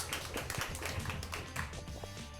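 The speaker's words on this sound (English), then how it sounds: "Round of applause, congratulations." Audience applause for the second-place team at a 1A division quiz bowl awards ceremony, a steady wash of many hands clapping close by for a couple of seconds.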